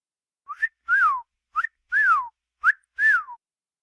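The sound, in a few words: person whistling imitating a parrot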